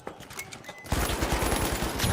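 An AK rifle fires a rapid automatic burst in the video game The Finals, loud and close, after a brief lead-in of scattered clicks and distant shots.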